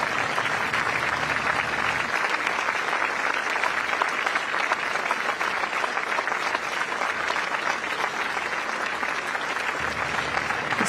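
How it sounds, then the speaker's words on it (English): Steady, sustained applause from a crowd on the Istana grounds in Singapore as incoming Prime Minister Lawrence Wong arrives with his wife, a dense even clatter of clapping running throughout with a faint low hum beneath. "A round of applause now"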